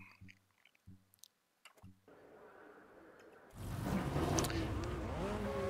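Copa classic race car in Automobilista 2, engine starting up with a few clicks and short idle bursts, then a loud, steady engine drone rising as the car pulls away, close and alone with no talk.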